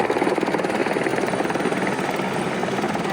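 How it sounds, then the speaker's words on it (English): A helicopter that has landed on the Everest Base Camp trek runs loudly and steadily nearby, its rotor chopping in a fast, even pulse throughout. "Here's the chopper which landed."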